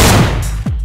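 Loud shotgun blast in the survival video game DayZ, a broadband burst with a sharp low thump near the end of a brief sequence, heard close and alone without speech.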